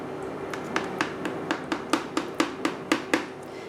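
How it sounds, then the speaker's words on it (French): A knife cuts again through a syrup-soaked basbousa semolina cake in its tray. About a dozen crisp taps and clicks come close together in a quickening rhythm, fairly loud and with no talking. "je vais juste découper à nouveau juste pour que le sirop qui est en train de stagner sur le gâteau puisse rentrer à l'intérieur"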